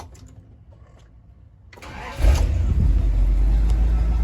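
A 1978 Winnebago Chieftain motorhome engine cranks briefly, then catches and settles into a loud, steady low rumble at idle, close by.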